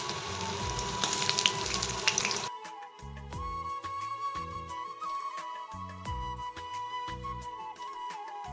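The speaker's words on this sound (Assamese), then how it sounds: "ফাৰ্ষ্টতে অকণমান তেল গৰম হ'ব দিছোঁ, তাতে জলকীয়া দিছোঁ" Dry cumin and dried chillies frying in a small amount of hot oil give a dense, loud sizzle for about two seconds. It then drops to a quieter crackle broken by light taps.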